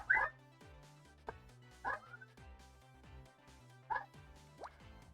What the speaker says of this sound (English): That is a dog barking.